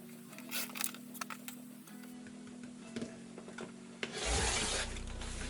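Fat quarter quilting fabric is cut into 2.5-inch strips, giving soft scraping and rubbing strokes close up that rise into a louder, steady rasping pass near the end, with no talking.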